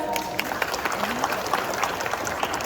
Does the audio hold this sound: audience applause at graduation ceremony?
yes